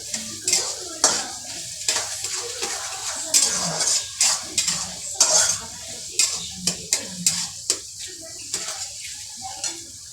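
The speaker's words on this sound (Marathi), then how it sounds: "कांदा आपल्याला चांगला सोनेरी रंग येईपर्यंत परतवायचा आहे." Chopped onion sautéing in a pan, with a soft sizzle beneath repeated close scraping and clinking of a spoon against the metal as it is stirred in an irregular rhythm.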